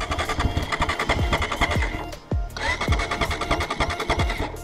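A motorbike engine warms up in the cold on a mountain ride between Tatopani and Muktinath in Mustang, running close and loud with a rapid uneven putter and revving surges, with a brief dip midway.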